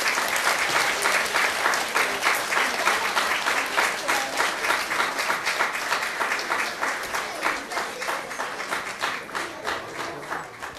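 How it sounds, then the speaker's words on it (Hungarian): An audience applauds at a school year-end concert, with dense, steady clapping from a full hall that runs on without a break and fades slightly toward the end. "Kérek még egy nagy tapsot nekik."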